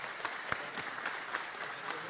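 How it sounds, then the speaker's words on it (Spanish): Audience applause for Mercal workers during Nicolás Maduro's Diálogo Bolivariano broadcast, a brief burst of many hands clapping with some distinct individual claps standing out, with faint crowd murmur beneath. "Un aplauso, pues, para ustedes."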